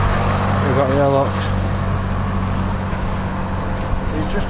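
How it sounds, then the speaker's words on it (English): A truck pulling out of a facility: a steady low engine rumble with some road noise, heard close by, while someone talks briefly over it near the start. "Now we've got the truck coming out as well"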